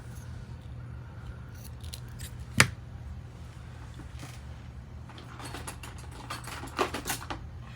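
Scissors snip through craft material, giving a sharp single cut followed by quieter, quick crisp snips near the end, close and alone over a low steady hum.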